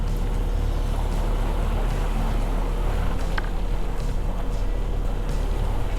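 A sailboat's motor runs at idle on open water, a steady low drone under constant wind and the wash of the sea along the hull, loud and continuous throughout, with no voices.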